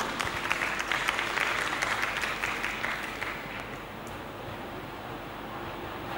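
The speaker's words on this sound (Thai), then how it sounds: "ขอเสียงปรบมือให้เธอด้วย" An audience applauds a student speaker at a school speech contest in Thailand, steady clapping that is loud at first, then thins and fades to a softer scattered patter toward the end.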